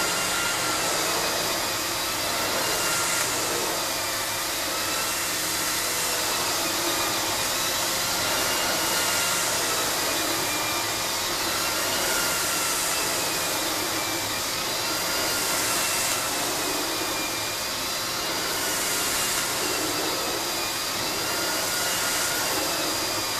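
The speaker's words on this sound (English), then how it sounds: "it tends to only spin the turbo brush round at moderate speeds" A Miele S8730 cylinder vacuum cleaner runs steadily with its turbo brush attached, a loud continuous motor whine and airflow hiss with a faint wavering tone, no voices.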